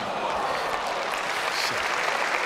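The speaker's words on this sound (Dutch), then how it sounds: "Goed punt en terecht het applaus van het publiek nu" Tennis crowd applauding steadily after a point at an exhibition match, a dense, even wash of clapping lasting throughout with no talk over it.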